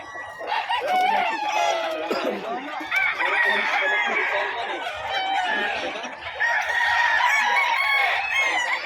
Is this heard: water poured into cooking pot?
no